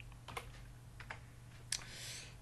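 Sparse keystrokes on a computer keyboard while PHP code is entered, a few separate quiet clicks and one sharper tap over a steady low hum.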